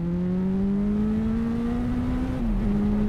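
A Suzuki B-King motorcycle with an inline four-cylinder engine revs loudly and close, its droning tone climbing steadily before a brief dip as it shifts, then holding high.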